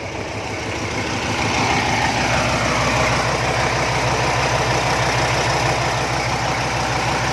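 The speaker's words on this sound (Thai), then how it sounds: "เป็นเครื่องนิสสัน V10 นะครับ 10สูบนะครับ" A Nissan V10 ten-cylinder diesel tugboat engine idles steadily and loudly up close in the engine room, a deep rhythmic rumble with constant vibration and no talking.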